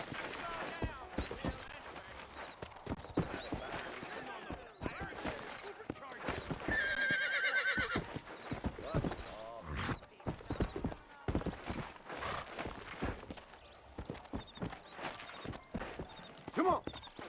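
Horse hooves clip-clop in a steady rhythm under a spoken voice in the Western video game Red Dead Redemption, with a loud whinny breaking through midway and the riding continuing afterward.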